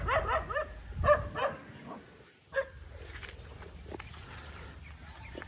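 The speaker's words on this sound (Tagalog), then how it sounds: "Yung aso niya tahon lang tahon." A dog barks a few times in quick, scattered bursts, somewhat distant, over faint outdoor background noise.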